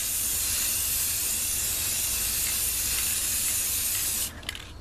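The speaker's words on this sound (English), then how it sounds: "we're going to put our second coat on of clear coat" An aerosol can of clear coat sprays a car headlight in one steady, loud hiss that stops abruptly near the end, leaving a few faint clicks.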